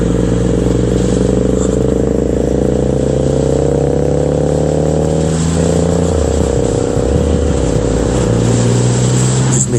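A Triumph Rocket 3 GT motorcycle on the move: a loud, close engine drone climbs in pitch, dips sharply at a gear change midway, then builds again with another shift near the end.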